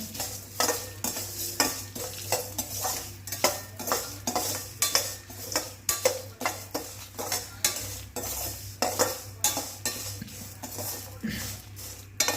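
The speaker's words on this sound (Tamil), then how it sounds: "தேங்காய் சில்லை சேர்த்துட்டு அதையும் நல்லா வறுத்துக்கலாம்." Coconut pieces roast with chillies in a pan for a Chettinad bitter gourd tamarind curry, with a spoon scraping and clinking rhythmically against the metal over a soft sizzle, close up and without speech.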